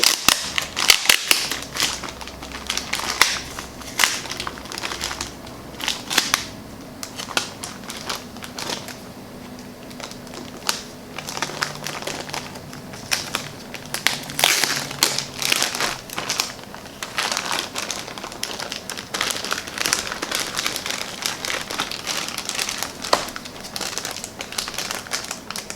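Tape is peeled and pulled off a bag for the box of a Cambridge Audio AXA35 amplifier, with continuous crackling, crinkling and sharp plastic snaps close by for a long stretch.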